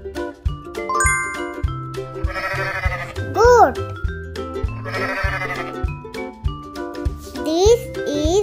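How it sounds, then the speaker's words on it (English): A goat bleats twice amid a children's animal-names song, with a bouncy musical backing and a voice speaking over it. "This is a goat."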